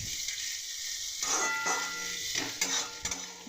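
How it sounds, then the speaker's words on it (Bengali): Onions frying in a pan for a Bengali fish kalia, a steady sizzle with utensils stirring and scraping against the pan and occasional clinks of metal, close and continuous. "পেঁয়াজটা লাল লাল লাল করে ভেজে নিয়ে"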